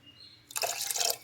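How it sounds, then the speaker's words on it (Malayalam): Water is poured into a pressure cooker holding wheat and rice for a traditional payasam. A close, bright splashing rush starts about halfway through and continues steadily after a quiet start. "ആവശ്യമുള്ള വെള്ളമാണ് ഒഴിച്ചു കൊടുക്കുന്നത് ഇത് വേവാൻ ആവശ്യമുള്ള വെള്ളം"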